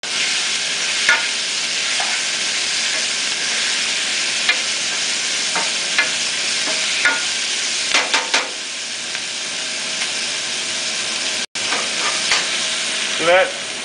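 Mushrooms, onions and carrots cooking down in a soup pot, a loud continuous sizzle and hiss with intermittent spoon scrapes and stirring knocks, heard up close with no talking.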